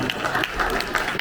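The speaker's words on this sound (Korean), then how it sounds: "우리 새해 선교사님은 안양에 오신 모든 분들 뜨거운 박수 감사드립니다." A church congregation at a Friday evening worship service applauds warmly in a short, dense burst of clapping that fills the room at a steady level.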